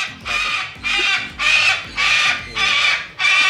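Cockatoos screech loudly in an aviary at a bird park, six harsh, raspy calls in a steady rhythm with brief gaps between them, close and prominent over faint background noise.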